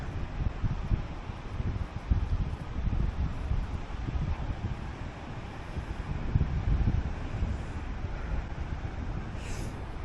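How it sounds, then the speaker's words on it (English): An easterly breeze blows across a beach, a low, steady buffeting rumble of wind on the microphone that stays fairly faint and continuous throughout, with no voices. "it's definitely got that easterly breeze, hasn't it?"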